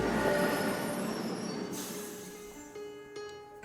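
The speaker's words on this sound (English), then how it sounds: "Let me just build a thing that can stop this train." In the Rail Route railway game, train wheels squeal with a high, sustained metallic screech over a rumbling rail roll, fading somewhat toward the end.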